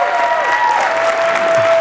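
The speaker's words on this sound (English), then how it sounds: "Y'all give them guys a round of applause." Audience applause at a ministry gathering, a steady, full wash of clapping filling the whole stretch with no pauses and no voices over it.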